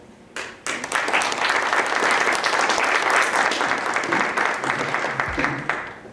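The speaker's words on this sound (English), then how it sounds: "So a round of applause." An audience applauds, dense clapping that swells in quickly, holds for several seconds, then fades.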